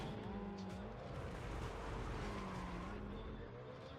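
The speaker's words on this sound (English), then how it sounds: "We've got the engines up and running, and they're off." Race car engines roar and whine in Need For Speed ProStreet, several cars revving with shifting pitch and tire squeal, a continuous layered drone.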